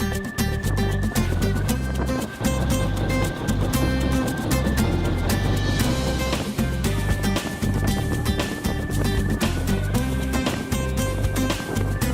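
A steady, loud engine drone and rushing water noise from a boat moving along, continuous throughout with no talking.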